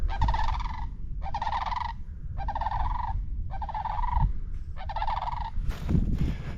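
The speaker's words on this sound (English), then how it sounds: "Sandhill cranes." Wild sandhill cranes calling outdoors, a series of five loud rattling, rolling bugles in even bursts about a second apart, fairly near and clear with no talk.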